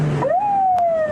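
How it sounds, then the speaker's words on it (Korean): Korean police patrol car siren wailing loud and close as it begins chasing a car fleeing a drunk-driving checkpoint, a rising then sustained tone. "마침 대기하던 순찰차가 사이렌을 울리며 차량을 뒤쫓기 시작합니다."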